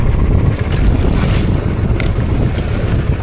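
A motorboat rides through rough, choppy sea, with dense rushing water, wave slaps and heavy wind buffeting the microphone throughout, loud and continuous with no talk.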